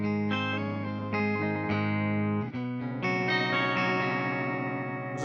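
Electric guitar run through a harmonizer effect in a guitarist's rig: sustained, layered chords with stacked pitched voices and a brief gap midway, then a denser shimmering passage, loud and continuous with no talking.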